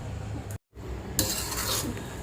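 Flour roasting in ghee in a pan for winter sukhdi, a soft scraping stir with a metal utensil and faint sizzle, a brief gap then a louder scrape against the pan.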